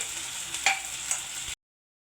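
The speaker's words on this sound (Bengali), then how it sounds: "লাল করে ভাজা করে নেব" Vegetarian fish pieces fry in hot oil as they are browned, giving a soft, faint sizzle with a couple of small crackles and stirring sounds before it cuts off abruptly.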